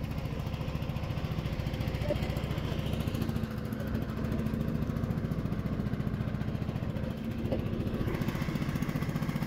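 A fishing trawler's engine drones steadily at sea in a loud, close mechanical chug with a fast, even pulse that runs without a break.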